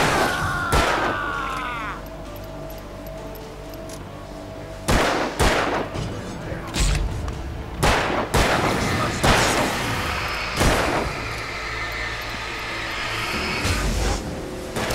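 Repeated loud gunshots and bursts of fire crack out at irregular intervals over a continuous rumbling backdrop in the video game Alan Wake, with no talking.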